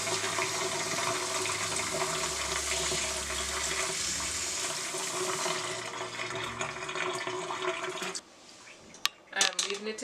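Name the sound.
rinsing rice with cold tap water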